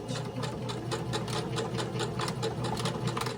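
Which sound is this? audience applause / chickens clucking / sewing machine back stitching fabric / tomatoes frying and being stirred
sewing machine back stitching fabric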